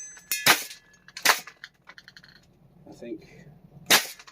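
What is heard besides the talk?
FLAK 10 gas airsoft gun shooting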